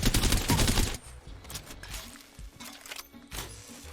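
Havoc energy rifle in Apex Legends firing a dense full-auto burst up close for about a second, then scattered softer shots and distant gunfire.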